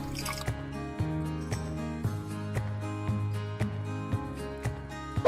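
Liquid nano DAP fertilizer drips into water as it is mixed, a steady series of clear, close drips and small plops over a faint resonant hum, with no talking.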